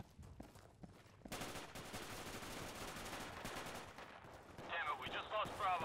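Distant, sustained gunfire rattles through a firefight in the tactical shooter Insurgency, with a steady stream of shots that grows heavier toward the end, faint and with no voices.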